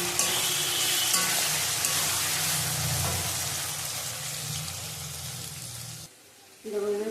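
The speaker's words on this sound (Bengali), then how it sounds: "এটা ভালো করে কষানো হয়ে গেছে।" Chicken masala with tomato and salt sizzles loudly and steadily in a pan as it is sautéed for a spiced yogurt chicken dish, then cuts out briefly before resuming near the end.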